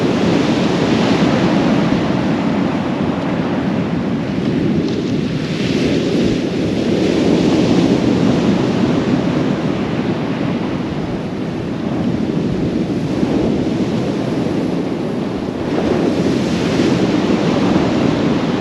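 Sea waves surge continuously over the crown of a shingle beach at Kilnsea on the UK coast, loud and close, with a roaring wash and strong wind buffeting the microphone, and no voices.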